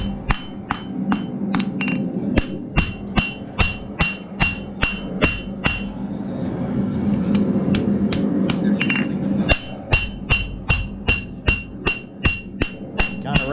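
Hammer blows shaping and thinning a metal handle, straightening and rounding it without heavy forging; a steady run of sharp, ringing strikes close by, pausing briefly midway under a hum before the rhythmic hammering resumes.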